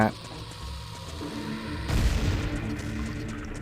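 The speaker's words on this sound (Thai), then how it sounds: "แล้วตรงนี้มีระเบิดให้ด้วยไง" A bomb goes off in The Legend of Zelda: Ocarina of Time 3D, one loud booming burst midway through that rises over the steady game music.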